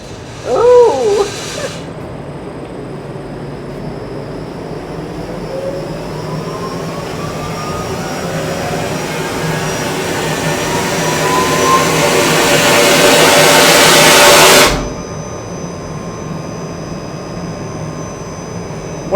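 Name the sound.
air hissing out of water pipeline air relief valve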